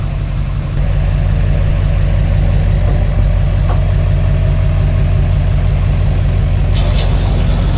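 A truck engine rumbles loudly and steadily as the vehicle drives out, a continuous close low drone with a faint brief hiss near the end.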